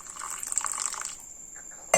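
Water poured over washed sago in a bowl, a soft liquid trickle and splash for about a second, then near quiet, ended by a sharp clink.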